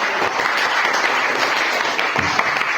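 Schoolchildren clap together in a classroom, a dense, steady burst of applause lasting the whole moment with no talk over it.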